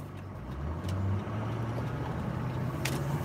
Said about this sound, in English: Oh, there's a car behind me now.